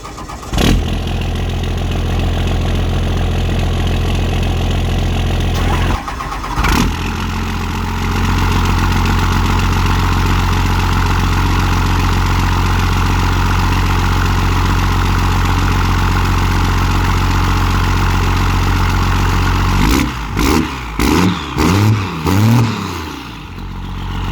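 Diesel truck with a new Sinister Diesel 6-inch exhaust tip starts up and settles into a loud, close, steady idle, with a brief break early on and a few uneven revs near the end.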